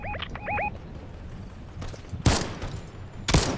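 Gunshots in a Fortnite match, two sharp loud cracks about a second apart, preceded by fainter distant pops and chirpy game effects.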